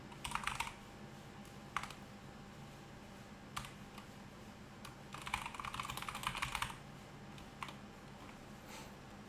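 Typing on a computer keyboard in bursts of rapid clicking keystrokes separated by single isolated key taps and pauses, close and fairly quiet, with no talking.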